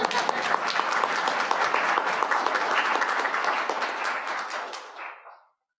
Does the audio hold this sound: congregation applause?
yes